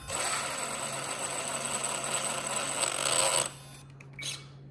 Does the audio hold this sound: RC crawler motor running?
yes